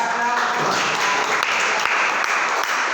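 Students in a vocational high school math class clap together, a steady, even patter of many hands that stays at the same level for the whole stretch.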